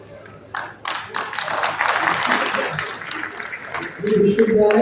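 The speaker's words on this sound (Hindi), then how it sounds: "एक बार जोरदार तालियां।" Ceremonial clapping from the crowd at a 2024 regional farmers' fair and exhibition as a university and farmer producer groups sign an agreement, a dense, steady burst of applause rising and holding for several seconds, with a voice coming in near the end.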